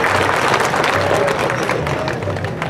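Loud, steady applause and clapping from a crowd at an outdoor village-day concert, continuous for the whole stretch with a low murmur of voices underneath.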